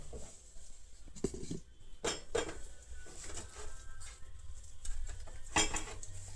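A spoon beats soft batter against a bowl for chhanch bora, faint irregular clinks and scrapes with a few louder knocks, no talking.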